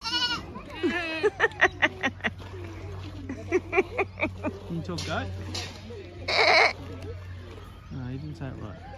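A goat bleats a few times nearby, its wavering cries mixed with people talking and a steady engine hum underneath.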